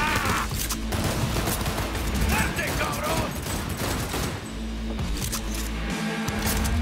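Rapid gunfire from a firefight in the video game Cyberpunk 2077, dense bursts of shots loud and close, with a voice over them.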